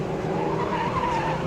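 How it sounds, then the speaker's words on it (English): A Formula Ford race car's tyres squeal loudly through a corner at Rockingham during a national championship race, a wavering high-pitched skid over steady engine noise. "Tyres squealing, you can hear it."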